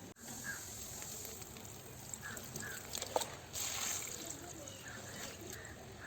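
Millet soaking water being poured out to be reused for watering plants, a faint, steady trickling and splashing with a slight surge partway through, heard at low volume.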